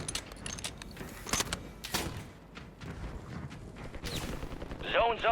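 Scattered gunshots and rifle cracks in Call of Duty Warzone, a marksman match with a Kar98k sniper rifle, sounding as irregular sharp bursts at moderate distance amid game ambience, ending in a brief metallic clatter.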